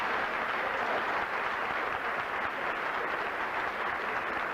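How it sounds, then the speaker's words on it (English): A graduation audience gives a dense, sustained round of applause, even and moderately loud throughout, with no voices rising above it. "Let's give them another round of applause"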